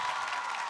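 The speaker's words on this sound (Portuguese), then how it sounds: "pode aplaudir." Studio audience applause on a Brazilian Saturday variety show stage with a band, a steady, dense wash of clapping throughout, fairly distant and even.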